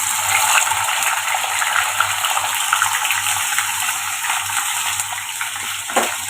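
Dried fish frying in hot oil in a pan, a steady loud broadband sizzle and hiss running through the whole stretch with small pops, no talking.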